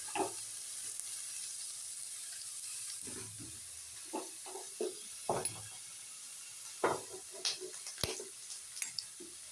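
Onions frying in a pan with a steady sizzle, broken by scattered scraping and clinking of a utensil against the pan, close and moderately quiet.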